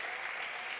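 A church congregation applauds during a sermon, a brief, steady wash of many hands clapping together at close range.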